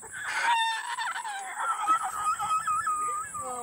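A cockatoo at Fort Chiswell animal park lets out drawn-out, wavering squawks and cries, fairly close and continuous, with no talk over them.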